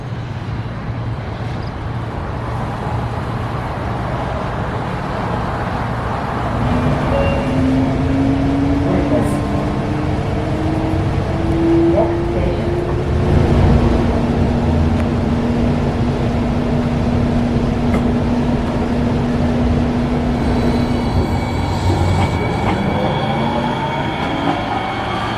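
Interior of a Santa Clara VTA Orange Line light rail train riding toward Milpitas, with continuous rumbling wheel-on-rail noise, rising and falling motor whine, and squealing tones as the car rolls along.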